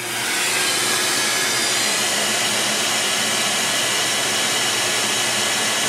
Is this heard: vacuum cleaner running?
yes